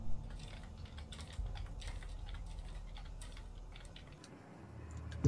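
Computer keyboard keys pressed repeatedly to move a character in the video game A Way Out, rapid irregular clicking over a low background rumble, close and steady, no talking.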